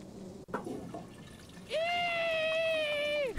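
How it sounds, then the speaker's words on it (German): A toilet flushing in the adventure game Deponia, a sharp click followed by a steady rushing flush with a bright whistling tone that holds for over a second, loud and close. "Hier runter um mal die Spülung betätigen"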